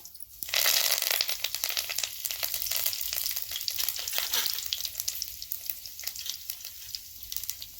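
Cumin seeds and curry leaves sizzle steadily in hot oil for a spiced kadhi tempering, a close, bright frying crackle that starts abruptly and holds at an even level with small pops throughout.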